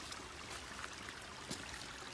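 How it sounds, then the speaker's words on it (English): Brook running beside a mountain hiking trail on Sugarloaf Mountain, a steady close rush and trickle of water with soft splashy texture, continuous and unbroken, no voices present. "This brook has been alongside the trail for a while."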